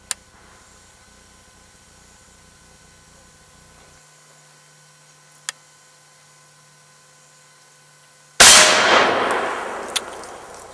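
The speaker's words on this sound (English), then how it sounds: "30-06 M2. Second shot, 50 foot. Fire when ready." A single 30-06 M2 ball rifle round strikes an L3 armor plate at 50 feet: one loud, sharp crack with a long decaying tail, coming after a quiet stretch with only faint clicks.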